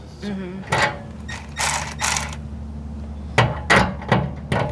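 A ratchet is worked close by in short bursts of rapid mechanical clicking, loud and crisp, with a few heavier clunks between the runs.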